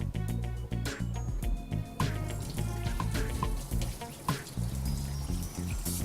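Tap water running steadily in a kitchen while zucchini and asparagus are washed for risotto, a continuous splashing trickle with clinks of produce and dishes close by.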